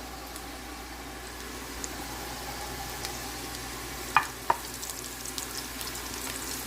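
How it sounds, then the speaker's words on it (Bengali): Onions frying gently in a pan for a dal tempering, a soft, even sizzle heard from a little distance, with a couple of small utensil clicks partway through. "এটা পেঁয়াজ ভেজে নিচ্ছে"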